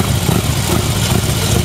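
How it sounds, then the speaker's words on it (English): A motorcycle engine runs loud and near while the rider rapidly grips the throttle, giving a dense, steady rumble with only slight pulsing over a brief moment. "but you can also do a constant gripping of the throttle"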